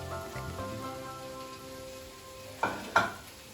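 Basmati rice with oil is stirred and tossed in a frying pan for veg fried rice: a soft sizzle sits under steady background music, and two sharp spatula clacks ring out near the end.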